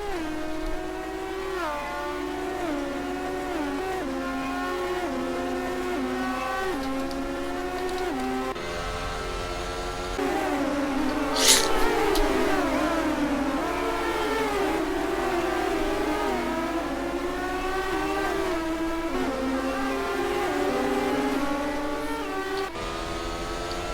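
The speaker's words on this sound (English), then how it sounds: "It's IndyCar at St. Petersburg." IndyCar race cars at the St. Petersburg street circuit, engines screaming and shifting through gears in overlapping rising and falling whines, a dense, loud pack passing continuously with no voices.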